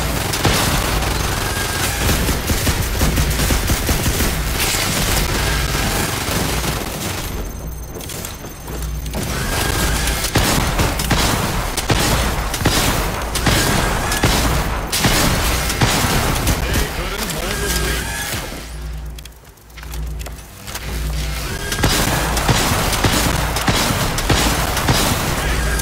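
Rocket launcher fire and explosions during a world boss fight in a video game, a dense, continuous barrage of booms and gunfire layered with game music, loud throughout with brief dips.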